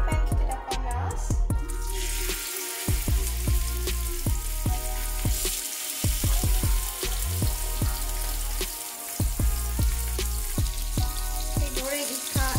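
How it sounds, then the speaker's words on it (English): Salmon frying in a hot pan, a steady loud sizzle that runs the whole time with bursts of spattering and clinking, close up, while a voice speaks briefly. "goreng ikan salmon sehingga dia masak"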